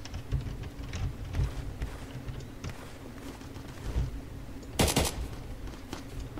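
Gunfire in the Roblox game Neighborhood War, including akimbo Uzis: scattered muffled shots under a steady background, then one loud, sharp burst near the end.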